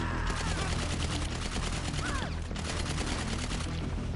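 Rapid gunfire from the GTA 5 video game rattles out in dense, loud, continuous bursts, with shots following one another almost without pause.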